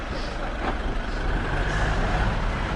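City bus idling and rumbling close by on a street in Palestine, a steady broadband engine drone with a brief hiss partway through, continuous for the whole stretch with no talk.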